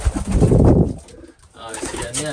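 Pigeons coo close by in soft, throaty bursts, while someone talks over and between the calls.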